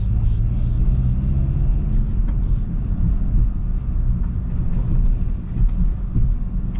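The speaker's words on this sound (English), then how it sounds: "A little bit of a bumpy ride." A VW Golf GTI driving over a bumpy road, heard from inside: a heavy, continuous low rumble with thumps and faint rattles from the rough surface, steady and close.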